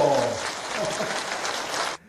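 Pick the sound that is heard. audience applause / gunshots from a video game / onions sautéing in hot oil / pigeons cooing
audience applause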